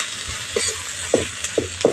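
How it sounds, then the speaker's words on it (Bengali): Ground cumin, coriander, chili and turmeric fry in a pan, a soft sizzle broken by several quick scraping stirs of a spoon. "সব মশলা একসঙ্গে একটু ভালো করে ভেজে নেব।"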